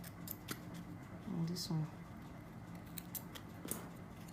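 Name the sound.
scissors cutting excess thread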